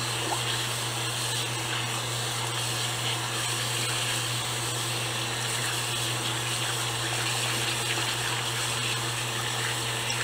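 Tap water runs steadily while hands are rinsed at a sink, a constant broadband rush with a low hum underneath, unbroken for about ten seconds with no talking.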